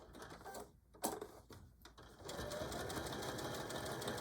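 Sewing machine stitching the back pockets of denim jeans into a phone pouch, running in short bursts and then settling into a steady, continuous whir of fast stitching, close and fairly quiet.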